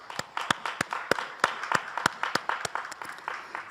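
A church congregation claps together during a Friday overnight worship service, a dense, steady patter of many hands close by with sharp repeated peaks running throughout.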